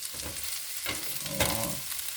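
Garlic frying in a pan, a close, continuous sizzle with light stirring scrapes through it.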